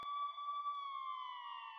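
An ambulance siren sounds as a loud, steady, high electronic tone that drifts slightly downward in pitch, heard alone with no voices.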